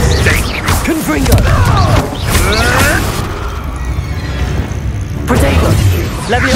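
Confringo blast spell explosions in the Hogwarts Legacy video game: loud, close booms and crashing impacts that burst out repeatedly amid busy combat effects, with a brief quieter stretch before another blast.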